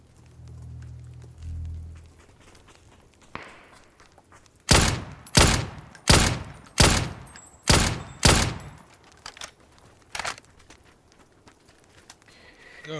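Gunfire in the video game PUBG on the Erangel map: a rapid run of about eight loud, sharp shots spaced evenly, followed by a few fainter distant reports, with quiet stretches before and after.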